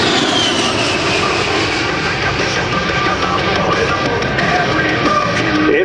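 An A-10 Warthog jet at an air show roars in a loud, steady, continuous engine drone that fills the whole stretch, with no break.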